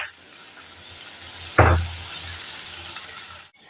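Crushed whole garam masala, cardamom and cinnamon, hits hot oil in a pan with a sudden sharp sizzle that flares briefly, then settles into a soft crackle before cutting off.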